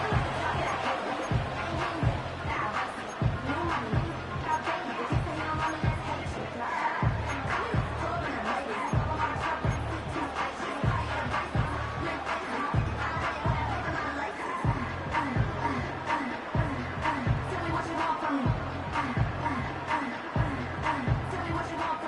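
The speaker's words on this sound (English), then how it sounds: "The crowd is definitely ready." A steady, roaring football stadium crowd from an EA Sports game drones on throughout, with a rhythmic low pulse repeating under the crowd noise and no clear single event standing out.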